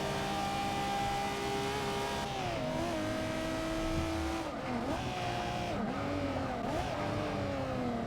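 A 2002 Nissan Skyline GT-R races in the Forza Motorsport 6 video game, its engine revving loudly and continuously, with pitch drops on downshifts and tire squeal through corners.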